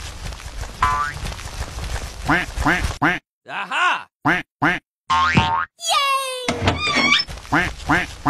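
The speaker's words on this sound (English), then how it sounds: "Duck." Cartoon duck quacks in a kids' animation, a bouncy run of short nasal calls mixed with boing-like cartoon effects and sliding whistles, loud and close, broken by brief silences.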